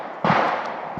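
A single sharp gunshot fired on a range during a shooting qualification test, close and loud, followed by a brief decaying tail and a faint second impulse at the end.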